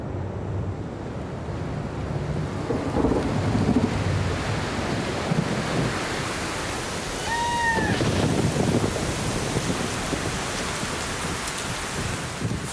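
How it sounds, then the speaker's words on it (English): Monsoon thunder rolls in over steady rain, low rumbles swelling and fading across the scene with a bird call cutting through midway. "Thunder announces the arrival of the monsoon."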